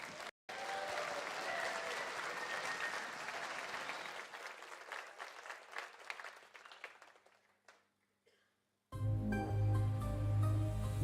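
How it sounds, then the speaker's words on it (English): Loud applause from the audience at an esports championship event in Birmingham rolls on for several seconds, thins and fades into near silence, and then music starts. "I need another big round of applause for Jill Marie Thomas, as she is about to jo"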